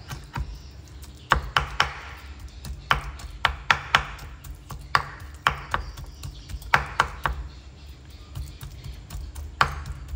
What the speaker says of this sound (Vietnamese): Tôm sau khi bóc vỏ mình băm nhuyễn ra các bạn ạ.